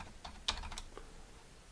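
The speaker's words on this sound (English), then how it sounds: "You could hear me typing" Typing on a computer keyboard: a few quiet, close clicks of keys in a short cluster, one sharper tap standing out, then fading to near silence.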